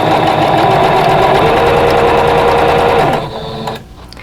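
A sewing machine runs steadily and loudly up close while chain piecing quilt block pieces, a continuous whirring hum that slows and stops just before the clip ends.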